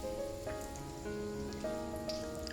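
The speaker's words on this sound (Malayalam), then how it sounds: "ഇനി നമുക്ക് തിളച്ച എണ്ണയിലിട്ട് വറുത്തെടുക്കാം." Batura dough fries in boiling oil with a steady, even sizzle resembling rainfall, with faint tonal music underneath.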